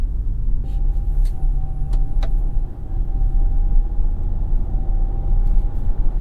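Steady low engine rumble and road noise inside a 2023 Jeep Compass while driving, a continuous hum with a faint whine and a few brief clicks, no talking.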